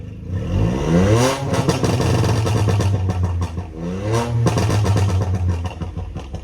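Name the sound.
VW Polo GT TSI 1.0 stage 2 remap engine revving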